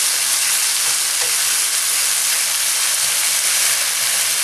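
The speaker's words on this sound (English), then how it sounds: "And we're going to fry an egg to put on top there" An egg fries in butter in a hot pan, giving a loud, steady, close crackling sizzle that holds evenly throughout, with no voices.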